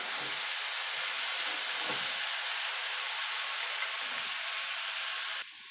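Potato, eggplant and onion frying in a pan give a steady, close broadband hiss that holds constant for about five seconds, then drops off suddenly near the end.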